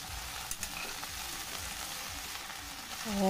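Garlic and onion frying in a hot pan, a steady broadband sizzle with a few faint clicks of stirring, close and continuous throughout, no voices.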